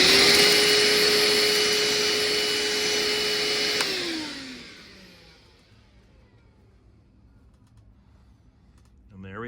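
A Harbor Freight vacuum cleaner whines loudly while sucking up leftover scrap pieces, then its motor winds down and fades into near silence, with a faint bump right at the end.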